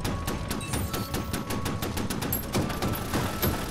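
Rapid tank gunfire in the mobile battle game Armor Attack, a steady run of sharp repeated shots at close range, loud and continuous with no speech.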